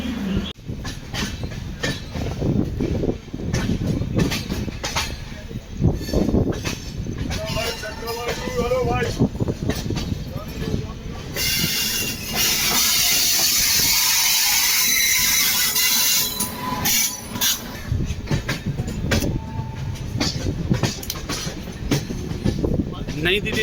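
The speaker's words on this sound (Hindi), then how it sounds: "नई दिल्ली रेलवे स्टेशन छोड़ते हुए हमारी ट्रेन और अब बढ़ रही है अमृतसर की तरफ।" A Sachkhand Express passenger train pulls out of New Delhi railway station bound for Amritsar, with loud rumbling, rattling wheels and clacking cars. A long steady hiss runs through the middle, and voices come and go around it.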